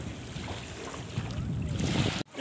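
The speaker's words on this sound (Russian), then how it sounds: "Вот, кстати, волны начались." Waves wash against the shore of the Pirogovskoye reservoir, a steady broadband rush mixed with wind buffeting the microphone. It continues for about two seconds and then cuts off abruptly.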